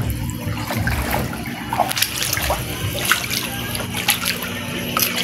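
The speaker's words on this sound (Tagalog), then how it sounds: "Abot na sa mga kalsada ang tubig dagat." High-tide seawater flows and splashes through a flooded street, a steady close wash of running, trickling water with small splatters throughout and no talking.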